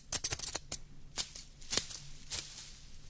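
Scissors snipping through long braided hair in a narrated fairy tale, heard as a quick series of crisp metallic snips followed by a few spaced single cuts, close and fairly quiet with no talk.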